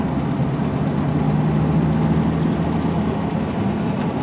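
A 1936 Buick Special Series 40 engine runs steadily with a low, even rumble and a faint mechanical whine, close and unbroken for the whole stretch with no talking.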